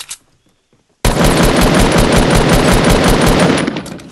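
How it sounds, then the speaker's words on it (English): An assault rifle in Fortnite Battle Royale fires a loud, rapid, continuous burst of crisp shots lasting about three seconds, after a brief near-silent moment. "Oh, those are some crispy AR shots."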